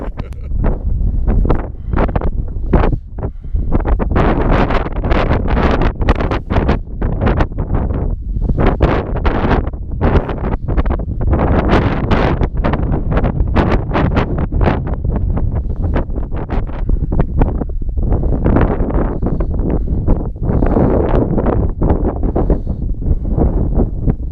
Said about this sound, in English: it's been a windy, cold day up at Camp 2